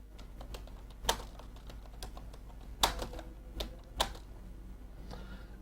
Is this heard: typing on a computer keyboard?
yes